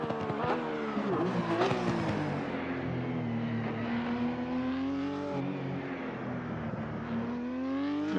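A Porsche 991 GT3 race car in Assetto Corsa Competizione screams through Spa-Francorchamps, engine note climbing and dipping through gear changes, loud and continuous, with brief tire squeal and no talking.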